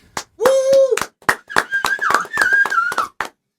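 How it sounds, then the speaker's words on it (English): A person clapping their own hands, a handful of sharp, separate claps spread irregularly across a few seconds, close and loud, interleaved with vocal sounds. "I'll clap for myself"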